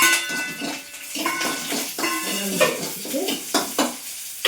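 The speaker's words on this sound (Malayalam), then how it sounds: "മുളകും ചെറുള്ളിയും വെളുത്തുള്ളി ഇട്ട് മുപ്പിച്ചു വറ്റൽമുളകും കറിവേപ്പിലും" Green chillies, shallots, garlic, dried red chillies and curry leaves sauté in hot oil, crackling and sizzling up close while a spoon stirs and knocks against the pan in uneven bursts.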